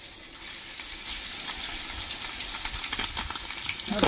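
Hot oil sizzles steadily in a pan while fish fries, a continuous close hiss that thickens and grows louder toward the end, outdoors on a fishing trip in Mumbai.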